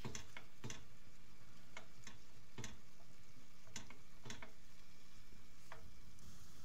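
Tomato paste being stirred into a simmering pasta sauce, with a spoon scraping and tapping the pan in scattered sharp clicks over a soft, steady sizzle.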